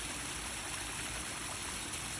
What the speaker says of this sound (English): the waterfall is working